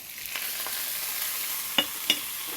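Onion and garlic go into a frying pan with a faint, brief sizzle, followed by two sharp close clicks of a utensil against the pan.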